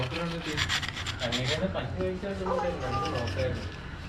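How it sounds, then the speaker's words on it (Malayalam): A copper head is scraped with a knife and rubbed with sandpaper in steady, close rasping strokes, with a person talking over the scraping throughout. "ഇപ്പം നൈഫും സാൻഡ് പേപ്പറൊക്കെ വെച്ച് നമ്മൾ ഉരച്ച്"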